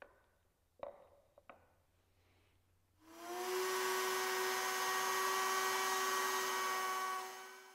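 A woodworking router fitted with a half-inch bit spins up after a few quiet knocks, then holds a loud, steady high-pitched whine with bright tonal harmonics while cutting a groove, fading out at the end.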